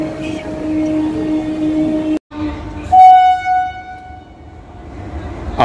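An Indian Railways express, the Sealdah Ajmer Express, rolls past with a steady rumble of wheels, a brief break, then a sustained horn blast near mid-clip before the noise eases and builds again.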